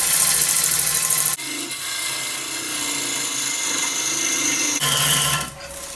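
A wood lathe spins a wild birch bowl blank, with a steady mechanical hum, and a scraping rasp of the tool cuts in and out against the wood, interrupted by brief pauses.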